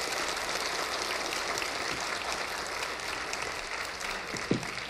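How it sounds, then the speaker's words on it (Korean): An audience at a book event in Guro gives sustained, dense applause for author Kim Jin-myung, a steady roar of clapping with a brief low thump near the end. "정말 좋은 말씀 많이 해주신 우리 김진명 작가님께 다시 한번 큰 박수 부탁드리겠습니다"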